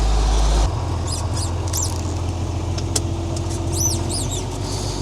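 A tractor engine idling as it warms up on a farm before grinding ear corn for cattle feed, a steady low chugging with a heavier thump at the start and faint high squeaks over it.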